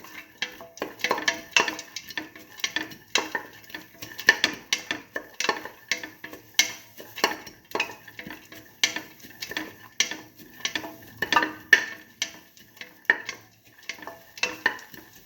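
Garlic is sautéed in a pan while a utensil stirs it, giving repeated close metallic scrapes and clinks at a steady rhythm, with faint sizzling underneath.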